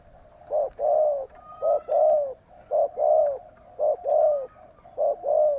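A caged decoy bird gives repeated dove-like cooing calls in a steady rhythm, about five phrases each made of a short coo followed by a longer one, clear and close with no talk.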